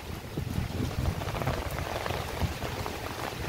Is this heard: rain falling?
yes